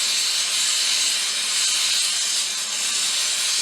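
A torch roars steadily as it heats a stack of quarters to fuse them into a mokume gane billet, giving a loud, continuous close-up hiss with no break.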